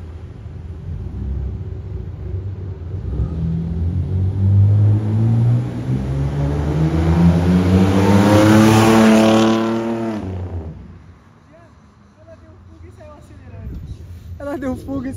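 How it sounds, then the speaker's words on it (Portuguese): A car speeds off from a police checkpoint in São Paulo, its engine rising in a loud revving climb that peaks and fades as it pulls away, followed by quieter traffic noise. "Fuga e saiu acelerando."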